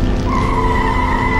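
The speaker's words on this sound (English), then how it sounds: "Just then, the Batmobile came speeding around the corner." A car tire squeal from an audio drama: one sustained, loud, high screech as the car skids hard around a corner, steady for its whole length over a rumbling engine.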